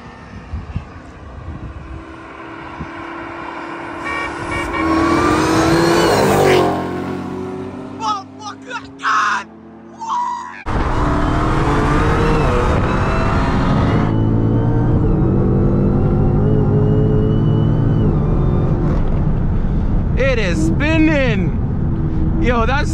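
A BMW F82 M4 and a Dodge Hellcat race side by side on a street in Mexico, engines roaring loud and close with surging, rising revs and a brief lull midway, while excited voices talk over them.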